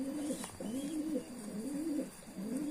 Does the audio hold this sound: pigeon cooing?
yes